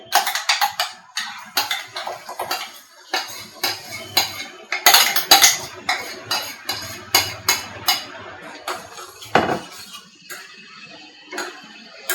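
A utensil stirs a thick paste of garlic and milk for pasta, giving a steady run of close, bright clinks and scrapes against the pan or bowl that repeat in uneven bursts.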